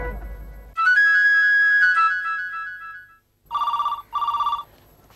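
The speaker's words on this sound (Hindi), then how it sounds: "कोई फोन क्यों नहीं उठा रहा?" Telephone ringing indoors in a home, a steady electronic tone followed by two short repeated bursts of ringing, loud and close with no talk over it.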